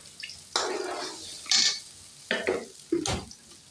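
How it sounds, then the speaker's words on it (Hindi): Semolina and sugar tipped into hot ghee in a pan for makhandi halwa, giving a few separate bursts of sizzling and scraping stirs, close and moderately loud, with no talking. "इससे घी गर्म हो गए, इसके अंदर सूजी डाल दूँगी। सूजी डाल दी, साथ ही इसके अंदर चीनी भी डाल दूँगी।"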